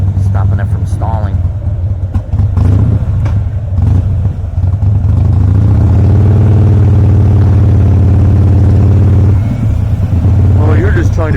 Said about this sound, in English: Harley's revving their engine all the time, stopping it from stalling.